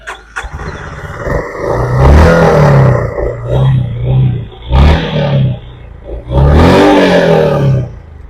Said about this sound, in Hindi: तो कुछ इस तरह का एग्जॉस्ट साउंड मिलता है आपको विद द CB350।